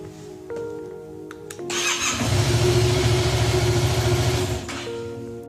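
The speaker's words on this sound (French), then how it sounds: "Après avoir allumé mon moteur" A motorcycle engine cranks and catches, then idles with a steady mid-pitched rumble for a few seconds before the revs drop back.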